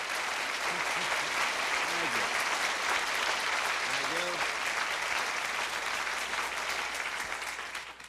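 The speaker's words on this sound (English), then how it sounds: "Listen to that applause." A studio audience at a television variety show breaks into loud, sustained applause that fills the room and fades away at the end, while a voice speaks briefly over it.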